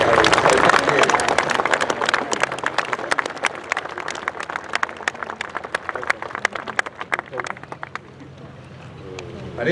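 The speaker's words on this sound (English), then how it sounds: "So give them a round of applause" Brisk crowd applause at Tankfest 2024 for the Centurion tank display crews. It opens loud over a voice, then thins into scattered individual claps that fade toward the end.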